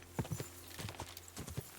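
Horse hooves clip-clopping in Kingdom Come Deliverance 2, a quick irregular run of clear hoof knocks, close and alone over a low background hum.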